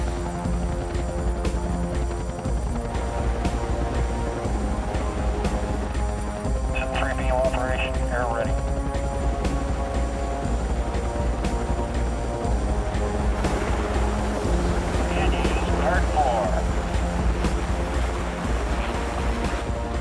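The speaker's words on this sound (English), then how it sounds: "the helicopters are returning to airlift off the demo team" A steady, throbbing rotor drone hums continuously throughout, like helicopters flying nearby, with faint mechanical whines rising briefly over it.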